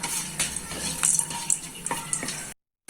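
Whole spices such as bay leaf, star anise, cinnamon and cloves roast in oil in a kadai for a Punjabi chicken gravy, with a soft sizzle broken by sharp clinks of a metal spoon stirring before it cuts off.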